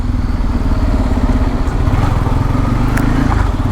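A Bajaj Pulsar N250 motorcycle engine running close by, a loud, steady low-pitched thrum with fast regular pulsing and no pauses.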